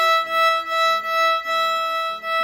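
A violin sustains a single open E-string note, played close and loud, the bow changing direction in a steady repeated rhythm of four strokes.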